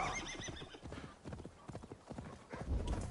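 Hooves of a galloping horse in the video game Assassin's Creed Valhalla, a steady rapid clip-clop rhythm with a horse's whinny, close and fairly loud, with faint voices over the top.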